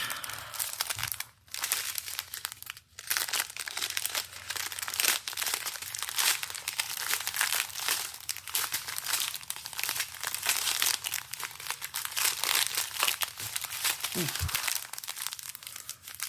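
Crinkling plastic packaging on diamond painting kits, a continuous dense rustle with brief pauses, loud and close throughout.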